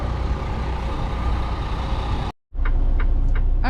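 A semi truck engine idles with a loud, steady diesel rumble. The sound cuts out briefly, then returns with faint high chirps and beeps over the ongoing drone.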